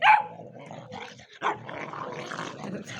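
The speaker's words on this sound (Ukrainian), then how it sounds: "Гавкає." A small dog barks sharply up close, first a loud yap and then another burst after a pause, trailing into softer yips and whimpery sounds over a busy background.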